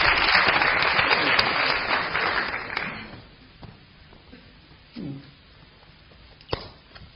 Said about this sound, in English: Give a round of applause as goes up to the seat.